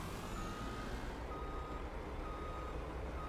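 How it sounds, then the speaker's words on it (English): Truck reversing beeps in the video game Farming Simulator 19, a steady electronic beeping over a continuous engine rumble, close and fairly loud with no talking. "If I can get close enough and back up the truck."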